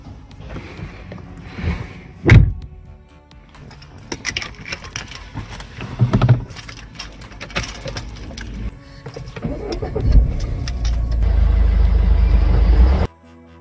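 A car door thuds shut amid rustling and clatter. Later an engine starts and settles into a loud, steady low idle nearby.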